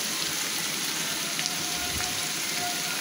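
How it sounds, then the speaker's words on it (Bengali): Chopped onions frying in hot oil, a steady dense sizzle and crackle with occasional pops, close and continuous throughout. "উনি পেঁয়াজ কুচি করে নিয়ে এই যে তেলে ভাজতেছে"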